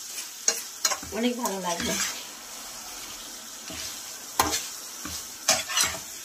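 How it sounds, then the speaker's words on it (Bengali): Mutton frying in a pan for Bengali kosha sizzles under repeated stirring scrapes, close and moderately loud, while someone speaks briefly in between. "এইভাবে যদি আপনারা মাংসটা কষিয়ে রান্না করে দেখবেন"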